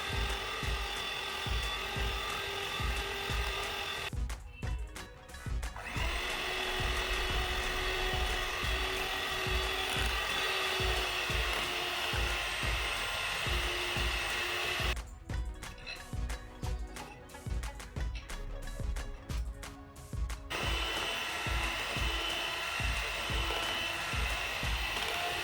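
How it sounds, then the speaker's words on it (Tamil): Electric mixer steadily whirring as it beats cake batter with maida flour in a home kitchen, a continuous buzzing drone with a few brief changes in pitch and texture as the beaters shift. "இப்போ நம்ம மாவு எல்லாமே சேர்த்து நல்லா பீட் பண்ணியாச்சு"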